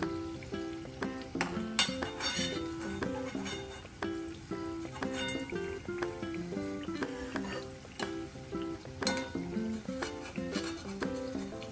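Fried nimki are lifted out of hot oil with a utensil: steady oil sizzle with light scraping and clinks, quiet under soft background music.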